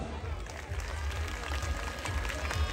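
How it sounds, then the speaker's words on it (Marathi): A crowd at a Shivpratap Mitra Mandal community gathering in Pune applauds for the mandal with dense, steady clapping that holds loud throughout, mixed with a murmur of voices. "एकदम मंडळासाठी जोरात टाळ्या वाजवा"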